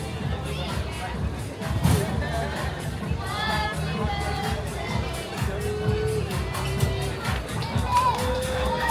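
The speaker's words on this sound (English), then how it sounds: "Where there's definitely still quite a crowd out," A lively night crowd on Levante Beach in Benidorm fills the air with dense chatter, shouts and scattered whoops close by, a continuous babble of many voices.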